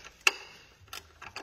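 A wrench loosens a nut on a Peugeot 308 GTI shock absorber, giving a few quiet, close metallic ratchet clicks spaced unevenly in a short burst.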